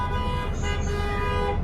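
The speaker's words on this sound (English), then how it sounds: "He's honking right now." A bus horn honks in one long, steady, loud blast, with road traffic rumbling underneath.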